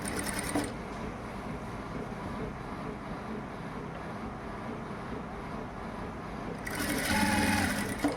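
A sewing machine runs steadily as it stitches a V-collar kurti, a continuous close mechanical whir that carries on without a break, with brief higher clatter at the start and end.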